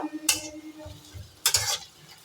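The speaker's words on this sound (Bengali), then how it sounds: "পেঁয়াজটা ভাজছি" Onions fry in a pan for chicken kosha, with two bright bursts of sizzling as they are stirred and a few soft scraping taps in between, close and fairly quiet.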